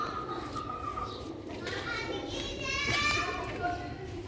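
Pigeons of a Sialkoti breed cooing at a breeder's loft, soft repeated coos over a busy background with children's voices and chatter nearby.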